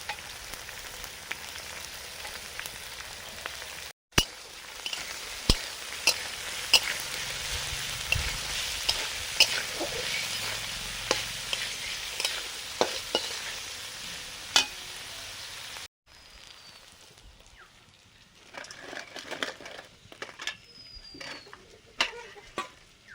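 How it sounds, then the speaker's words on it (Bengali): Vegetables for fried rice, including capsicum and peas, sizzle and crackle steadily in a hot pan, with occasional scrapes and taps from stirring. The frying turns quieter near the end. "ফ্রাইড রাইসের সবজিগুলো ভাজা হয়ে গেছে।"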